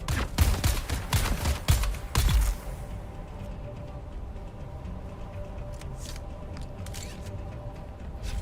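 Rapid bursts of gunfire in the Dune Awakening game crack loudly for about two and a half seconds, then give way to a quieter ambient bed with a few faint clicks.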